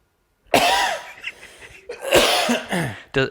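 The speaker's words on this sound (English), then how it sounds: "but then a cough comes on" Two rough, loud coughing bursts close by, each followed by a short catch of breath, with a brief quiet gap between them.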